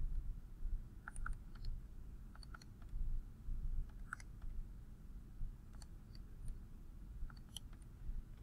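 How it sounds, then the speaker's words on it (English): Soft, faint clicks come from data points being keyed into a calculator, in irregular bursts over a steady low background hum. "If you hit this stat button and go to edit, I'm going to type all these points in"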